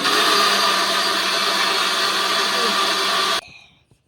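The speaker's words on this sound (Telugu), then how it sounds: "ఇలా మిక్సీ జార్లోకి వేసుకొని మిక్సీ పట్టేసుకుందాం" A mixer grinder whirs loudly and evenly while blending instant dosa batter in its jar, a close motor drone that cuts off abruptly near the end and leaves brief faint clinks.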